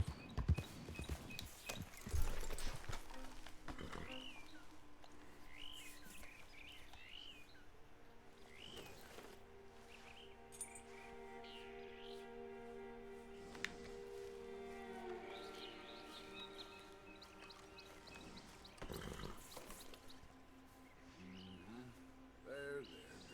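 A horse walks in Red Dead Redemption 2 with soft hoof clip-clops in a loose rhythm, heard alongside game ambience of chirping birds and background music, with occasional louder thuds.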